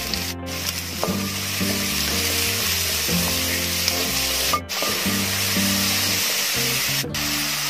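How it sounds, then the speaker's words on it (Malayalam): Two medium onions sautéing with salt in a pan for a soya chunk curry, crackling in a steady close sizzle with a few brief stirring scrapes and short dropouts, no voices. "ഒരു മീഡിയം സൈസിൽ രണ്ട് സവോള ഇട്ടിട്ടുണ്ട് ഇത് നന്നായിട്ടൊന്ന് വഴച്ചെടുക്കാം"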